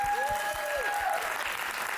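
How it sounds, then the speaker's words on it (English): Steady audience applause for Mr. Arnold at a radio station tribute and family reunion, a dense continuous wash of clapping with a faint tonal whistle or feedback line running over it early on. "One more round of applause for Mr."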